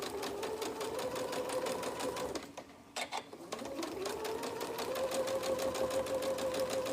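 A sewing machine stitches a label onto a quilt with a close, steady whirring buzz; the motor stops briefly, clicks, then runs up again at a slightly higher pitch and carries on.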